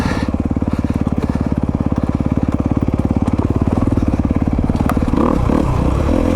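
Honda CRF250RX dirt bike engine running steadily while riding, a loud, close, throbbing mechanical drone that holds a constant pace and shifts slightly near the end, with no talking.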